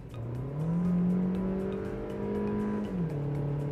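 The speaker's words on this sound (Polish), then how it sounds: "Gaz do dechy." Buick Encore, a premium twin of the Opel Mokka, accelerating hard at full throttle: a loud, steady engine drone rising in pitch, with harmonics climbing and then settling, heard alone and close up.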